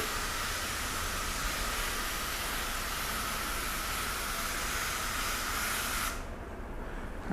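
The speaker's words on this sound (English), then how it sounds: "let's go ahead and mist over these 4 sections so we can check out the beading" A spray bottle mists water over four coated test sections to check beading, giving a steady, close hiss that runs unbroken for several seconds and then stops abruptly.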